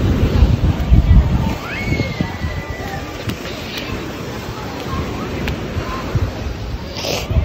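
Sea waves washing onto a beach on an overcast day, steady rumbling surf mixed with wind noise, louder at the start, while a person talks over it.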